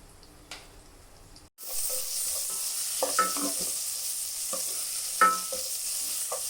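Shallots and green chillies sizzle steadily in hot oil in a pan, with occasional stirring scrapes, close and continuous after a quiet start.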